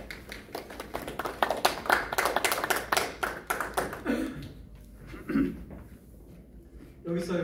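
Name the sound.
audience applause welcoming a poet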